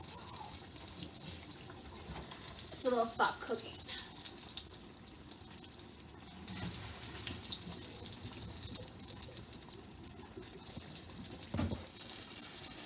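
Water from boiled potatoes pours and drips through a strainer in a home kitchen, a faint, soft splashing with a louder gush early on and a few sharper drips later. A voice talks quietly over part of it.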